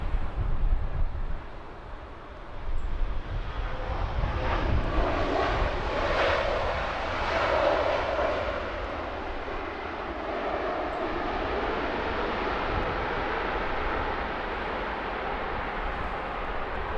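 Jet airplane passing at London Heathrow Airport, a loud sustained engine roar that swells and then holds steady as a broad rumbling wash, with no voices.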